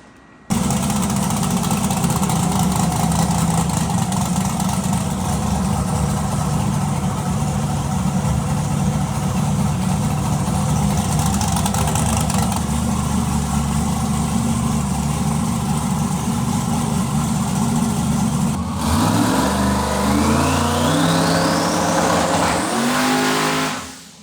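A Chevrolet Camaro V8 running on methanol idles loudly and steadily for a long stretch, then revs up in a sharp climb near the end before cutting off, recorded close with no talking.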